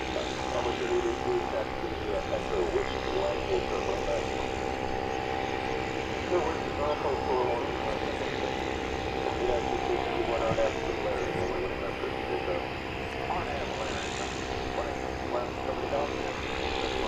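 Delta Flight 804 airliner at Dallas Fort Worth Airport at daybreak, a steady droning engine roar held at a distance, with someone talking over it.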